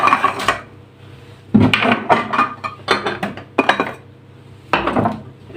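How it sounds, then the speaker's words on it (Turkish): Glass and metal spice jars on a kitchen spice rack clink and clatter as they are taken down and handled, a series of sharp, close knocks and rattles in irregular bunches. "Öncelikle şu baharatlıkları bir indirelim."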